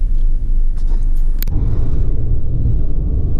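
A car engine rumbles steadily and up close, a deep continuous drone with a brief sharp click partway through and no talking.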